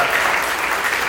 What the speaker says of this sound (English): Please just give a round of applause for everybody.